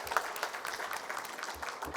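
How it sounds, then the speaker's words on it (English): Applause for panelists at the Government of Jamaica Service Excellence Conference and Awards, a faint spread of clapping from an audience in a hall. "So a round of applause for the panelists so far."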